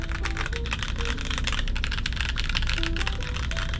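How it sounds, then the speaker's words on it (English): Rapid, steady clacky keystrokes from a custom Jerkin 30 mechanical keyboard build, typed continuously and close up with no voices. "What do you guys think is the typing sound?"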